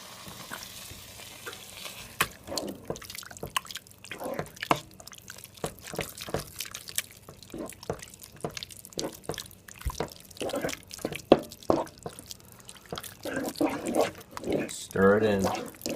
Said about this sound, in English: So we're going to add in some more milk right away.